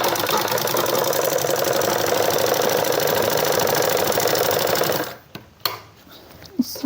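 A sewing machine stitches a shirt seam on a women's cord set shirt, running in a steady, continuous mechanical whir for about five seconds before stopping, followed by a few faint handling noises.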